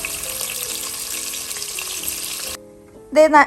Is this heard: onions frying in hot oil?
yes